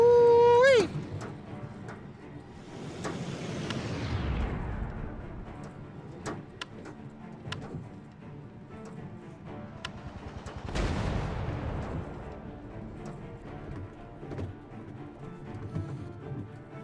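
Cannon fire in the WW2VR flight game, with bursts of booming shots and rushing roars that rise and fade twice over the stretch, a brief high whine at the start, and no talking.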